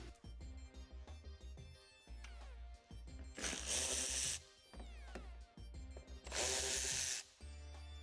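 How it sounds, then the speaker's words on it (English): Ratcheting and clicking as 8 mm screws and push clips are removed from the old rear diffuser trim of a BMW X5 G05, with two louder bursts of a power driver over a steady low hum. "removing all the 8mm and push clips from the old trim"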